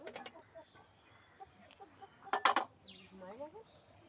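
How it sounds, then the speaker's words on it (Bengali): Chickens clucking in short bursts, with a louder squawking flurry midway, over a quiet background and faint distant voices. "ওপারে দুটো মুরগি আছে ওটা মাপা হচ্ছে"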